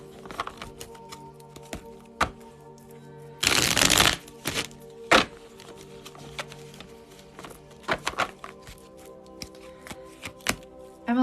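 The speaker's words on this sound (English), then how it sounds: "Emily, let me grab a card for you." Tarot cards shuffled and drawn during a live reading, with scattered taps and flicks, one loud riffling burst near the middle, and further sharp card snaps, close to the mic over a faint steady hum.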